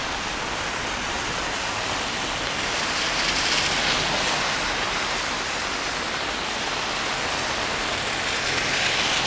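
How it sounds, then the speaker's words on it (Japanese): Heavy rain pouring down on a Tokyo street, a dense, steady hiss of falling water and splashing that stays loud and unbroken throughout. "雨強いの分かりますかね。"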